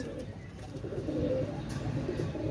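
Sabdar Royal Teddy pigeons coo softly in low, rolling murmurs against a faint, steady background hum.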